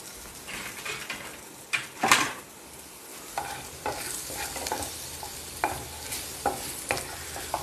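Onions cooking in a pan, giving a constant sizzle broken by repeated scraping and clinking of a utensil stirring them, close and fairly loud, with no voices.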